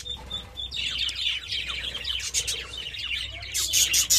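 A breeding colony of budgerigars chirps and twitters nonstop, with many overlapping quick, high calls from birds close by that grow busier and louder toward the end.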